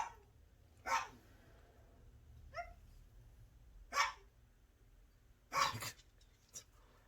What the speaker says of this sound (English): He's going to bark and bark and bark.